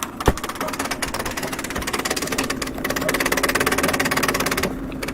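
A Juliet Braille embosser printing, running as a loud, steady mechanical drone with rapid rhythmic clatter that holds continuously for several seconds close to the machine, with no hood fitted.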